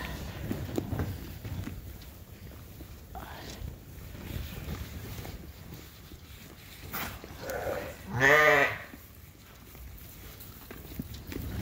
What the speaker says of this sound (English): Are you getting all those little corn morsels?